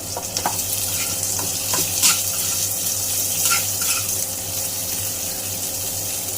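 Onion frying in a pan for a dried-fish curry, stirred as it cooks: a steady sizzle with scraping and clattering stirring strokes, close and fairly loud, with no talk.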